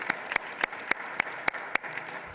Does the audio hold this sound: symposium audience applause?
yes